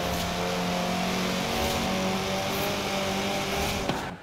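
A Maserati engine drones at steady high revs through a Forza Horizon 4 championship race, loud and constant with a faint tonal whine, no talking.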